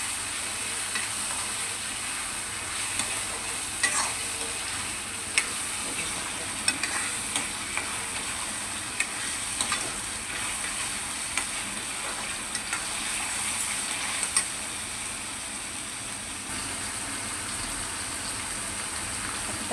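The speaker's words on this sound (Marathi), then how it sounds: "मी अद्रक, लसूण, कांद्याची पेस्ट टाकलेली आहे याच्यामध्ये आणि चांगली फ्राय करून घेऊया तिला लाल होईपर्यंत" Ginger, garlic and onion paste with onion and tomato fries in hot oil for a fish curry, giving a steady, dense sizzle with scattered crackles and pops throughout, close and even, with no voices.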